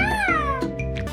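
A cat meows in a long drawn-out, slightly rising then falling cry, close and clear, with a couple of short bursts of noise or chatter at the end.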